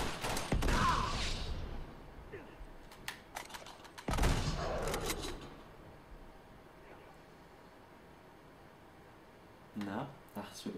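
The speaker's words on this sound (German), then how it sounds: "dann werde ich von hinten wieder angeschossen" Gunfire from Uncharted 3 multiplayer cracks out in a few short, loud bursts, some with grenade-like blasts. A player's voice talks over much of it.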